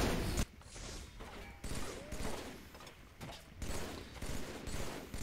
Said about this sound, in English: I'm gonna go shoot you with my shotgun.